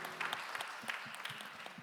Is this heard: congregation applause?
yes